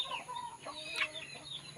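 One-month-old chicks being given a bath chirp and peep softly and continuously, thin high calls overlapping at a moderate distance with no talking.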